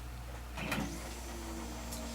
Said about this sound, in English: our 3D printer is going on